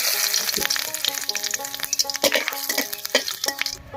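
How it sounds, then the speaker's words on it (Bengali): Two dried red chillies, half a spoon of whole cumin and a bay leaf spluttering in hot mustard oil in a kadai, with loud crackling pops and sizzle, fading out at the end. "তেলের মধ্যে দেব দুটো শুকনো লঙ্কা, হাফ চামচ গোটা জিরা আর একটা তেজপাতা।"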